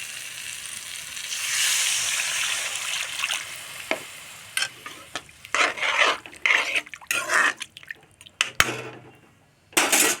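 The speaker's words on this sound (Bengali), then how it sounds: "আমার মশলা রেডি, এখন দিয়ে দেব জল।" Water poured into hot frying spices for an egg and potato curry, giving a loud burst of sizzling that settles into bubbling with scattered spatters and utensil clinks, no talk.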